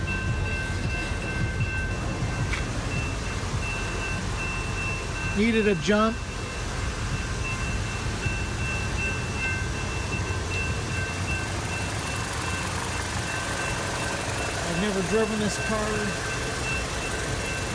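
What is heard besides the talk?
train passing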